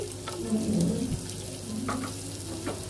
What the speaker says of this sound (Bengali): এখন ভালোভাবে কষে নিতে হবে।